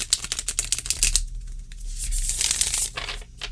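A large, flexible Fyodor Pavlov tarot deck is shuffled up close, with crisp riffling flutters of cardstock sliding together, then a longer smooth whoosh and a final burst of ruffling.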